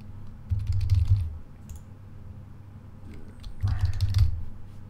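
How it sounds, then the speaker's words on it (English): Clattering computer keyboard keys while typing answers in a geography outline quiz, two short bursts of fast keystrokes over a low background hum, close and fairly quiet. "I keep typing Voronezh for everything"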